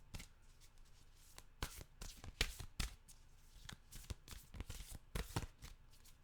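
Tarot cards being shuffled by hand, a series of quick riffling bursts and soft slaps in irregular rhythm, close and fairly quiet, with no talk.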